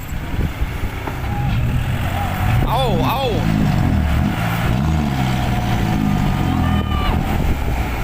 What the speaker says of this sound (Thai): เกี่ยวสลิงครับ ถอยหลังดึง รถไถ มาดันด้านท้ายครับ